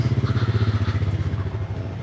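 Royal Enfield Classic motorcycle engine idling and rolling slowly into a service centre, a loud close thumping single-cylinder pulse with steady rhythmic beats, no talk.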